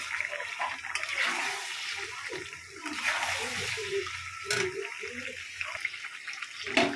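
Water is poured into chicken curry cooking in a pan, a soft splashing pour with sizzle and clatter underneath, while someone talks over it.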